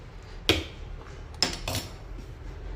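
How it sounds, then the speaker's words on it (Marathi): A spoon knocks and scrapes inside a steel mixer jar while stirring thick garlic-ginger paste, giving three sharp metallic clinks spaced over a few quiet seconds. "हे सारखं असं 2-3 वेळा झाकण उघडून आणि असं चमच्याने हलवून घ्यायचं"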